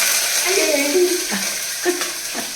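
Whole spices sizzle in hot ghee for veg pulao with a dense, close frying hiss, broken by a few soft spoon taps and scrapes against the pot.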